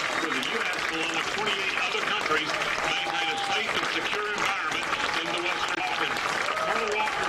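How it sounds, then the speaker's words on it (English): Stadium crowd at a college football game between Shorter and West Alabama stands and applauds, a dense, steady wash of clapping and cheering filling the whole stretch, with an announcer's voice running over it. "Most of the crowd standing and applauding."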